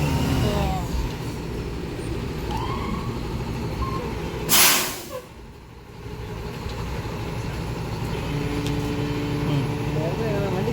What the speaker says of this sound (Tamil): ஆனால் ஏர் பிரேக் பார்த்தீங்களா? ஏர் பிரேக் பாருங்கள்.